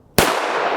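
One loud, close 9mm pistol shot with Magtech 95 gr JSP ammunition, a sudden crack followed by a broad, sustained wash of noise to the end.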